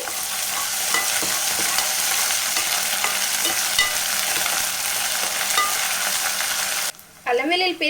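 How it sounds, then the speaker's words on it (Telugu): Ginger-garlic paste fries with onions in a pan for a gongura mutton curry, giving a steady, loud, close sizzle with faint stirring scrapes. The sizzle cuts out near the end and brief tonal sounds follow. "ఈ అల్లం వెల్లుల్లి పేస్ట్ కూడా పచ్చివాసన పోయేంత వరకు అయితే ఫ్రై చేసుకోవాలి"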